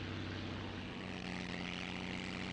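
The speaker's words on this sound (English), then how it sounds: "And here's Klaus Heller flying the rather magnificent 1915 aeroplane. Well, actually it's a replica." A replica 1915 Albatros biplane flies past at an air show, its propeller engine giving a steady droning buzz with a constant low tone, at middle distance and alone.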